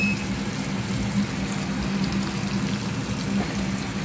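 Ridge gourd and tomato cook in a pan with turmeric, giving a continuous soft sizzle and bubbling hiss. The sound stays close and even, with a low steady hum underneath.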